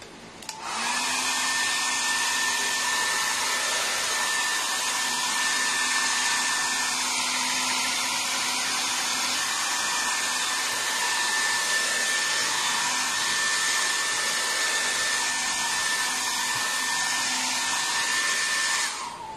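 A hair dryer blows steadily and loudly at close range for the whole stretch, drying paint on a 1/4 scale Venom statue, its whine holding a constant tone from start to finish.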